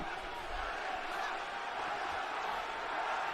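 A capacity arena crowd at a wrestling event in San Jose roars in a continuous, dense frenzy of cheering and shouting, with a steady, loud wash of voices throughout.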